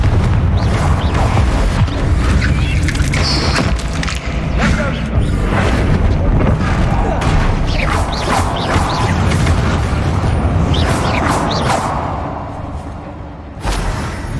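Confringo spell blasts in Hogwarts Legacy: dense, loud, continuous booming explosions and crashing impacts, one burst after another with whooshing magic, tapering off slightly near the end.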